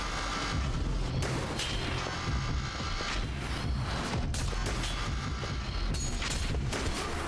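Missile blasts in the video game Concrete Abyss, with dense, loud booms and crackling detonations rolling almost continuously through several seconds of chaotic combat.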